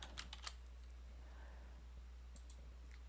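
Faint computer keyboard typing, a few quick clustered key clicks at the start and again near the end over a low steady hum.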